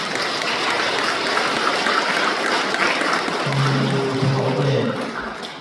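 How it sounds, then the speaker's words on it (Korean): A crowd claps steadily for choir members inside a Won Buddhist temple, a dense, sustained applause that fills the room and tapers slightly at the end. "우리 단원들 잘 하시라고 박수 한번 쳐주세요."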